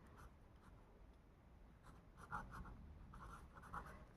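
A pencil writing numbers by hand on paper for a class 4 maths lesson, producing faint continuous scratching with short strokes and pauses, close and quiet with no talking.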